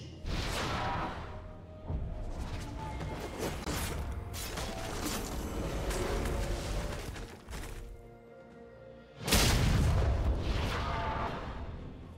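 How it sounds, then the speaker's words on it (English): A turret is destroyed in League of Legends amid constant mechanical rumbling and creaking. The crashing collapse hits near the end as a loud, heavy boom that then fades. "Blue Team's turret has been destroyed"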